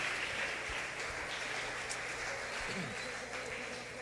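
Church congregation clapping and applauding, a dense continuous patter of many hands in a large room, fairly faint and steady throughout.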